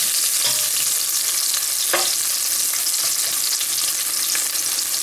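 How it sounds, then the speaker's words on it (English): Fresh ginger and garlic for a restaurant-style sweet and sour sauce fry hard in a hot pan, a steady loud sizzle with sharp spits and pops and occasional stirring clinks, no voices. "Be careful it's spitting, so don't put your hand over it."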